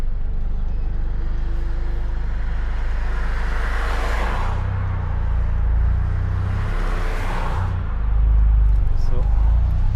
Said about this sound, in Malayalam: വണ്ടിയുടെ സൗണ്ട്, എൻജിൻ സൗണ്ട് കേൾക്കണം.